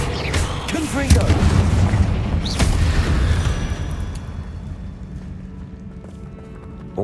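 Confringo blasting-curse explosions in Hogwarts Legacy boom in quick succession amid other spell effects and rumbling bursts, loud and close, with a shouted spell voice over the opening and fading into a low ambient tail.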